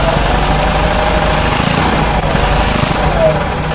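Onan or Generac generator engine running just after a cold start, a loud, close, steady mechanical drone with a rapid vibrating thrum.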